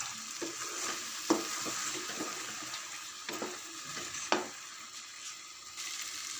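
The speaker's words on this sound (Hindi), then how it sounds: "ये 2 चम्मच दही लिया है, इसको ऐड करेंगे। इसको भी अच्छे से मिक्स कर लेंगे।" Chana dal with yogurt and chicken cubes is stirred in a cooking pot, giving a soft wet sizzle with scattered scraping clicks of the spoon against the pan, close and fairly quiet.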